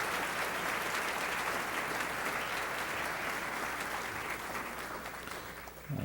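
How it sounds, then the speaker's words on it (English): A big round of applause fills a 2017 Inner City Law Center annual luncheon, dense steady clapping from a large audience that holds loud for several seconds before thinning slightly near the end. "Give them another big round of applause."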